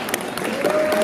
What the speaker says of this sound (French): Continuez d'applaudir, il faut que je compte 23 fois